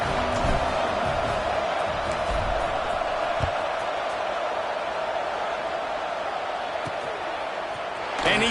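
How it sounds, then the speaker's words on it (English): The home crowd at a Memphis vs ECU college football game keeps up a steady, distant roar throughout, with a voice speaking over it. "keeping the home crowd still engaged, still excited"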